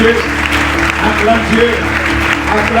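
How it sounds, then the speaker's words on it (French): French-speaking church congregation applauding and cheering during a sermon, a dense continuous roar of clapping and voices filling the room at high volume throughout. "Acclame-le bien fort. Acclame-le bien haut."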